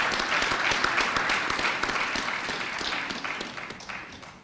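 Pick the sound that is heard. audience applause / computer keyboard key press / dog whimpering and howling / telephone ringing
audience applause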